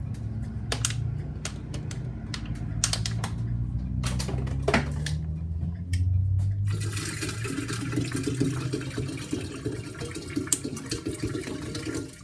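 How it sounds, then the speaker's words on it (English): Water poured into a bottle sold as "The Coldest Water" bottle, the stream filling it with continuous splashing and gurgling over about twelve seconds, louder and denser in the second half, with some clattering handling sounds early on. "Now I'm gonna add all 3"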